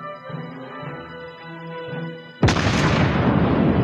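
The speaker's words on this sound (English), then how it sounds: "Tap the fire button to shoot." A naval gun in the World of Warships Blitz game fires at a target ship: a sudden loud boom with a long rumbling tail breaks in after quiet background music.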